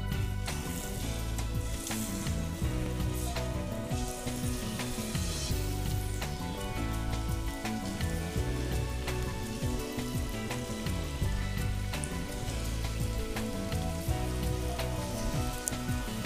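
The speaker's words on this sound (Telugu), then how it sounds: "ఆ తర్వాత బాండీలో ఆయిల్ పోసేసి డీప్ ఫ్రైకి ఫ్రై చేసేసుకోవాలి" Marinated chicken pieces deep frying in oil in a pan give a steady, close, dense crackling sizzle that carries on evenly throughout, with no voices over it.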